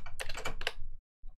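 Rapid typing on a computer keyboard at a Linux terminal, a steady run of close clicks for about a second, then a brief pause and one final short burst of keystrokes.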